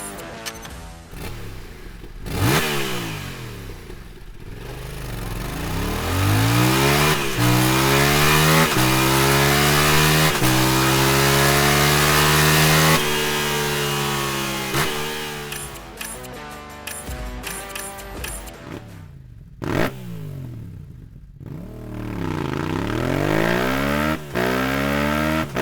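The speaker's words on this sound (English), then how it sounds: "Now let's check out what the R7's parallel twin crossplane sounds like, also with stock and aftermarket exhaust." A Yamaha R7 parallel twin crossplane motorcycle engine revs repeatedly, climbing and falling in pitch with loud exhaust bursts, pausing briefly between runs.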